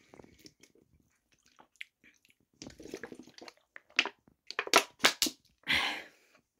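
Water being chugged from a bottle: a run of close, wet gulping and swallowing sounds with small clicks, growing louder and more bunched toward the end, with no talk.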